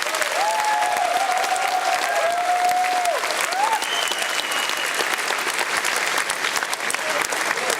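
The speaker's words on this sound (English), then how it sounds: "So big round of applause for all the sponsors." Sustained applause from a large crowd at a QuakeCon 2007 id Software press conference fills the room, dense and steady throughout, with a few whistles and cheers rising above the clapping.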